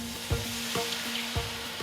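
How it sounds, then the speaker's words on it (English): Peppercorns sizzle quietly in a smoking-hot pan, a steady soft crackle broken by a few short scraping stirs, with no voices. "That'll sizzle."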